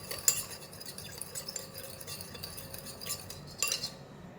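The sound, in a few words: spoon mixing salt and sugar into vinegar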